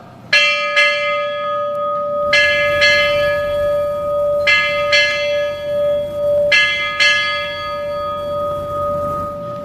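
Ship's bell struck eight times at a United States Navy change-of-command ceremony, ringing in four spaced pairs of loud, clear metallic strikes with long sustained ringing tones, alone without talk.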